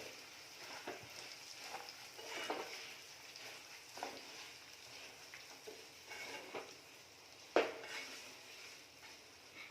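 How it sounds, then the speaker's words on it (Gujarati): Spices for green turmeric pickle being mixed in a pan on the stove, with soft scraping and stirring, light clinks of a utensil against the metal, and one sharper knock near the end. "હવે આ બધું આપણે એકદમ સરસ મિક્સ કરી લઈએ"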